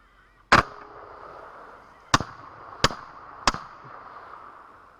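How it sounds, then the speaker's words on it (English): Four sharp rifle shots during a hunt ring out outdoors, one loud blast followed after a pause by three more in quick succession, each with a short echoing tail over faint ambient background. "He's going to put a few more shots into it than I did."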